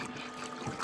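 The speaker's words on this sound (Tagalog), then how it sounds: "at ang aming makina ay pakita mo makina natin" A small 2-horsepower diesel engine runs on a boat, giving a steady, noisy drone for under a second, with no voices.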